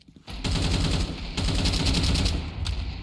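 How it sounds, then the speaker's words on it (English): Rapid gunfire from a Counter-Strike match fills the space, dense rattling bursts with a short gap and a final crack, loud and close, heard alone without commentary over it. "With a deagle, headshot onto Hazard, and Bob's finishing off Addict"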